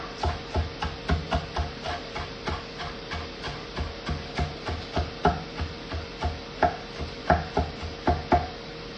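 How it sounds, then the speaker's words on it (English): Food is chopped into small pieces on a board in a kitchen while preparing crispy tofu with cauliflower fried rice, giving a steady series of crisp, evenly spaced knife taps close by, with no talking. "It just means chopping into small pieces."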